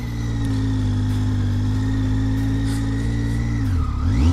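An adventure motorcycle engine labors up a mountain track on Mweelrea Mountain, a loud, close, sustained drone that holds steady before the revs dip and then rise again at the end.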